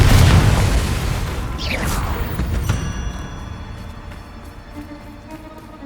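Confringo blasting spell exploding in the video game Hogwarts Legacy: a loud, close boom with a bright burst that decays into a rumbling tail over several seconds, no talk.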